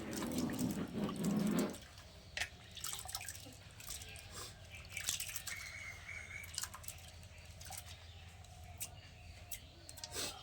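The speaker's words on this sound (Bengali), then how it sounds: "ভালো করে কলের থেকে আগে ধুয়ে নিয়ে আসি ভালো করে।" Lentils being rinsed under a running kitchen tap, starting with a louder gush of water for a couple of seconds, then softer steady trickling and dripping with light splashes, close by.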